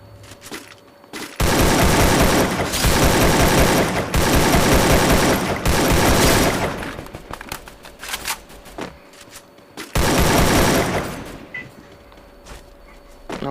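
Loud bursts of rapid automatic gunfire in a video game come in several long volleys separated by short pauses, close and intense, with shots hitting a car.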